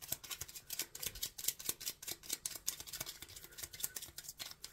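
Tarot cards are shuffled by hand in a quick run of soft, crisp riffles and slaps, close and quiet, with no voices.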